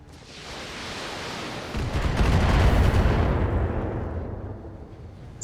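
Long-range missile salvo from LRM towers in the BattleTech mech game: a swelling, roaring rush of launches and blasts that builds to a loud peak in the middle, then fades away.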